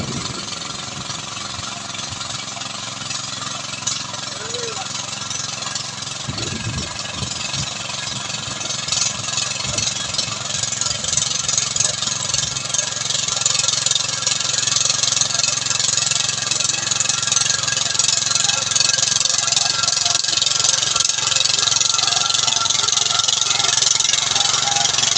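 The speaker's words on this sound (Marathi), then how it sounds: "आपला मोठा ट्रॅक्टर आहे किसानचा" A large Swaraj farm tractor engine runs outdoors in wind and light rain, a loud, steady mid-pitched chugging drone that grows slightly louder partway through.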